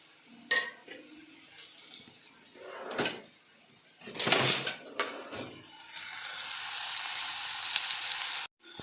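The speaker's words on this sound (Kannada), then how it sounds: "ಟೊಮೊಟೊ ಹಣ್ಣು ಹಾಕಿದ ಮೇಲೆ ಚೆನ್ನಾಗಿ ಬೇಯಿಸ್ಕೊಳ್ಳೋಣ" Chopped tomatoes hit hot oil with curry leaves for temple-style rasam, giving a few clattering pan and stirring knocks before a steady, close sizzle that fills the last few seconds.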